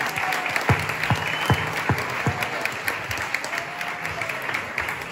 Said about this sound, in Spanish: Un aplauso muy fuerte para Eloy y Jenny